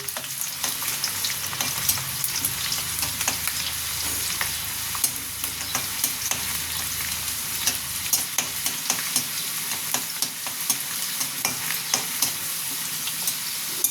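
Onions frying in a pan for a chicken chaap, a steady close sizzle with frequent scraping stir clicks throughout, no voices.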